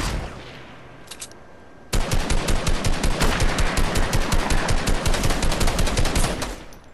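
Rapid automatic gunfire in a video game, a long fast burst of evenly spaced sharp shots starting abruptly after a quiet lead-in with a couple of faint pops, then cutting off near the end.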